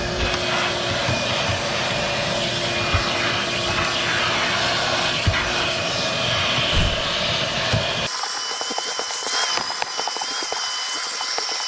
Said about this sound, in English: time to vacuum.